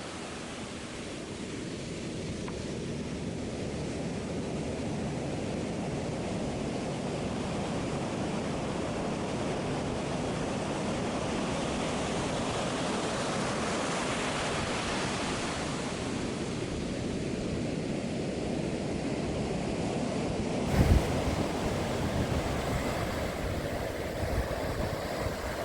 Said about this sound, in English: listening to the surf